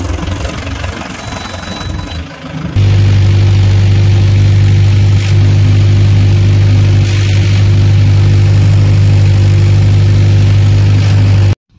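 A Mahindra tractor engine runs steadily while ploughing a field, a loud constant low diesel drone that kicks in after a few seconds and holds without pause, with no talk.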